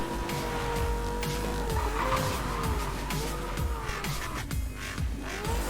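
A car in Need for Speed Most Wanted 2012 roars along with a sustained engine drone and shifting pitch, tires squealing and skidding repeatedly, loud and continuous throughout.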